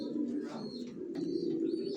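Young racer pigeons coo softly in a loft. Low murmuring coos run under faint higher chirps, quiet and fairly close.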